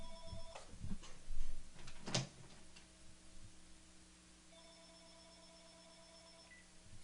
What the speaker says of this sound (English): It appears that the President of the United States is calling me on the phone